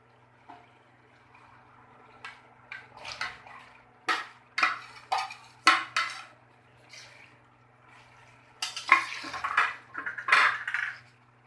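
Chicken is tipped into a pot of frying onion, tomato, garlic and ginger and stirred, giving scattered close clinks, scrapes and wet squishes of a metal spoon against the pot, with quiet gaps and a faint steady hum.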